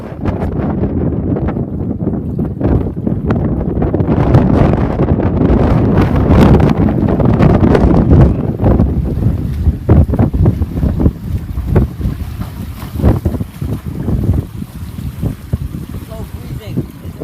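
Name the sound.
heavy wind at the sea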